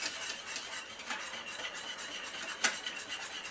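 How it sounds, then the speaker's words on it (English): A metal teaspoon stirs flour into a warm German potato salad dressing in a pan, making quiet, continuous scraping and clinking with one sharper clack near the end and no talk. "You just have to stir it pretty much the whole time so that it gets nice and creamy."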